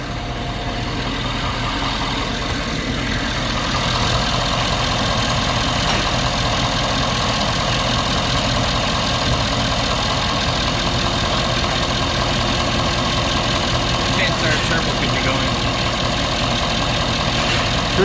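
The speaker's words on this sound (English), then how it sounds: "So let's start it up, pull the oil cap, and see exactly what's going on." A 2011 Ford F250 engine idles steadily with the oil cap removed, giving a continuous, even rumble with a faint ticking texture and no talk.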